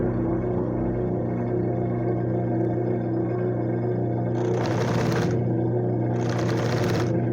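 A sewing machine topstitches a simple fabric case, a steady close mechanical hum with regular stitching pulses throughout, and two brief brighter bursts near the end.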